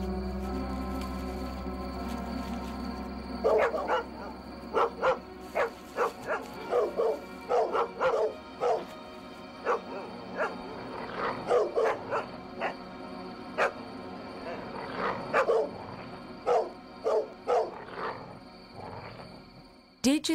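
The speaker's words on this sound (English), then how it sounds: "The dogs have killed Didge's mother." Several dogs bark repeatedly in rapid, uneven bursts, loud and agitated, over a low background drone.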